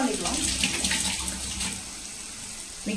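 Tamarind water being poured into gooseberry pickle, a steady splashing trickle of liquid, close and continuous, tapering off near the end.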